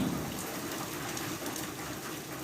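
Heavy rain pours down steadily at night, a dense continuous hiss of drops hitting surfaces, fairly close and even in level, with no talking.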